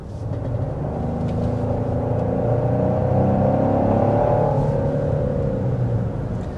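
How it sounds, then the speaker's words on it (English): 2026 Genesis GV70 with its V6 engine revving, a smooth rising and falling engine drone heard from inside the cabin, fairly loud and steady with a gentle swell in the middle and no talking. "There's also a little bit of engine noise amplification."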